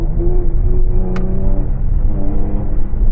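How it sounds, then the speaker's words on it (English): A Jaguar F-Type surges forward with the throttle pressed only an inch, giving a steady, close engine drone that stays strong and even throughout, with a brief sharp tick partway through. "I push it an inch and the car just"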